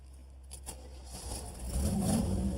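A Buick demolition derby car's engine runs nearby, a low rumbling idle that swells into a rougher, louder rev toward the end.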